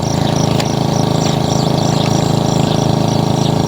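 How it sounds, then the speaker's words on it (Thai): A water pump engine runs outdoors at a steady loud drone with an even, rapid pulsing rhythm, close by and continuous. "ปั้นน้ำอันนั้นเป็นเสียงเครื่องปั้นน้ำนะคะ"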